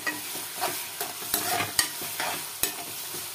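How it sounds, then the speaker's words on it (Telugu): Gongura (sorrel) leaves cooking in a large quantity of oil for a chicken pickle, making a soft, bubbling sizzle punctuated by repeated stirring scrapes at an uneven rhythm. "ఆయిల్లో ఉడుకుతుంది అనమాట గోంగూర"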